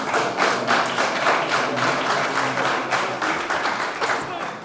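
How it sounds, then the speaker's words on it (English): Audience applause at a business panel event, a dense steady patter of many hands clapping for several seconds, fairly loud throughout with no break. "Give them a round of applause."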